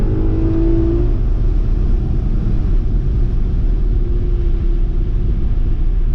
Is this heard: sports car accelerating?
yes